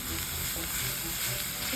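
Garam masala, cumin, smoked paprika and salt fry in a pan with browned onions, ginger and garlic while being stirred, giving a steady close sizzle with soft scraping of the spoon and no talking.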